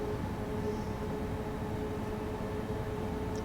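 A heavy BR 193 freight train of about 1,100 tons rolls along the Dresden–Röderau route in Train Sim World 6, a steady low rumble with a faint constant tonal hum, unbroken and without talk.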